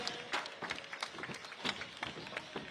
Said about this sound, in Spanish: el aplauso del público de Durango para las corredoras del FDJ Suez